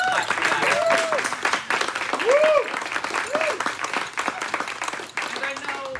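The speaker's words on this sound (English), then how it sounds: "Yes, let's clap for that." An audience at a Boise Bard Players keynote applauds with dense, sustained clapping while a voice speaks and calls out over it.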